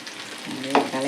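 Chicken gravy stirred in a pan: a short scrape of the spoon over a low, steady simmering sizzle, close and moderately loud.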